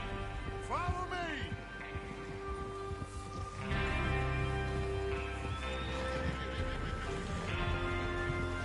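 Horses whinny repeatedly in the video game Red Dead Redemption 2 over the clatter of hooves and a steady background hum, the calls rising and falling near the listener.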